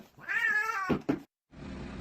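A house cat gives a clear, close meow that rises and falls, followed by a short second yowl, a brief silence, then a low room rumble.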